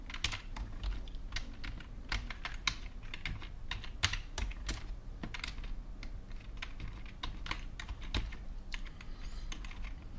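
Quick, uneven keystrokes clatter on a computer keyboard while code is written during a logic programming lecture, close and crisp with no talking.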